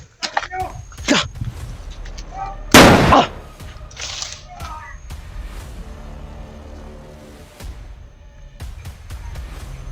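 Gunshots ring out at a scene where someone may have been killed, a sharp loud burst cutting through mid-clip with fainter cracks before it, while people talk throughout.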